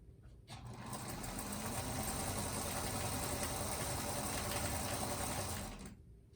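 A sewing machine stitches a quilted table runner in one continuous whirring run of about five seconds, starting and stopping cleanly, close but fairly quiet, with no talking.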